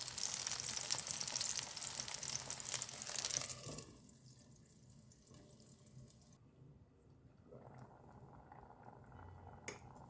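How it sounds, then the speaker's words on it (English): Salted, peeled eggplant frying in oil, a loud dense sizzle that drops off abruptly, followed by a quieter, fainter bubbling hiss and a brief clink near the end. "Then dry it and fry it on oil."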